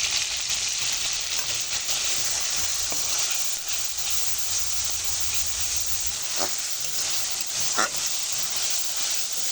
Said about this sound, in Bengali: মাছ আর মশলাটা ভালো করে ভাজা হয়ে গেছে।